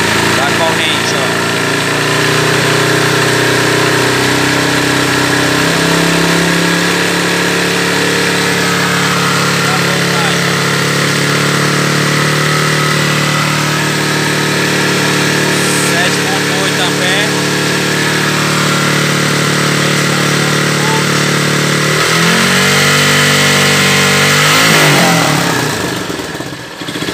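A 2004 Honda CG 150 ES motorcycle engine running steadily, then revving up and climbing in pitch near the end, with someone talking over it throughout.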